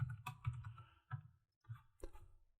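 Computer keyboard keys are typed in a short, quiet burst of about six separate clicks at an uneven pace, close by with nothing else around them.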